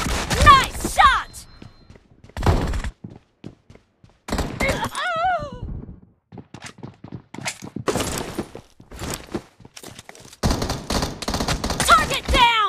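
Gunfire in the video game PUBG Mobile comes in repeated bursts and single shots between short quiet gaps, together with voices and other game effects.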